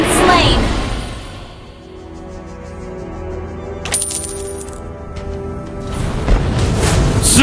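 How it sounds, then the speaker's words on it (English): A turret destroyed in a video game: a deep booming blast near the middle, surrounded by chiming game effects and an announcer-style voice. "Your team destroyed a turret!"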